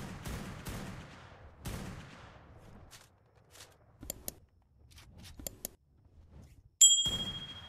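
Gunfire in the survival game ARK: Primal Fear, shown as a series of sharp, separated shots spread across the stretch with short ringing metallic tones, fairly close and loud, with no talking.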